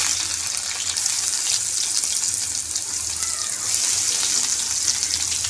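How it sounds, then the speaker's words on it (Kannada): Onion and garlic with cumin frying in hot oil in a pan, a loud, continuous hissing sizzle that stays even and close from start to finish, with no talking. "ಈಗ ಗೋಲ್ಡನ್ ಬ್ರೌನ್ ಬರೋ ತನಕ ಚೆನ್ನಾಗಿ ಫ್ರೈ ಮಾಡ್ಕೊಳ್ಳೋಣ."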